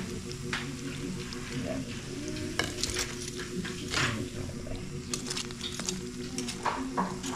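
Fish fillet, a local fish called libgaw or tulakhang, browning in a pan as it is stirred, with steady sizzling under clinks and scrapes of a utensil against the pan and a brief spoken word.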